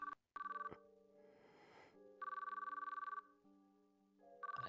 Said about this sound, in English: As I listened to the phone ring